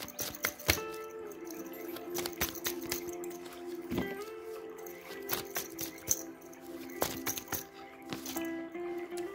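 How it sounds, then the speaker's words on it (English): Tarot cards are shuffled slowly by hand, giving soft, irregular flicking and riffling taps spread across several seconds, quiet and close. "Sometimes shuffling with cards,"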